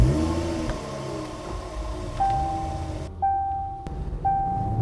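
A 2018 Range Rover Velar with a V6 engine and 8-speed ZF transmission accelerates, producing a steady engine hum and road rumble heard from inside the cabin, with rising tonal whine and a brief dip partway through.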